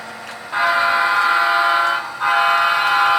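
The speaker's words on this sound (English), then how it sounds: "we do got to honk for the vagrants down there in the woods" A loud, sustained train horn blares in two long blasts, the second starting right after a brief dip, over low rumbling.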